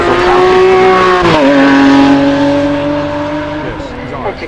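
Supercar engine at the Goodwood Festival of Speed 2021 revving loud and close, pitch climbing through gear changes with a sharp shift around the midpoint, then easing slightly as it pulls away.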